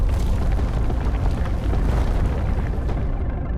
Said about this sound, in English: you can see the full outcome of the explosion